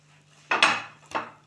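A metal spoon scrapes and clinks against a plate while loosening chaap, two brief close scraping strokes in a quiet setting.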